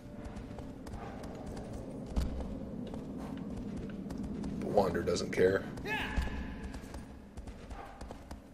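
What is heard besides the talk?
horse galloping in the video game Shadow of the Colossus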